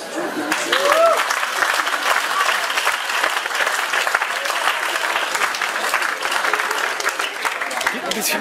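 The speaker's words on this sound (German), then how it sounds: "Applaus." Sustained applause from a crowd at a carnival singing-group performance, dense and steady throughout, with some cheering voices mixed in.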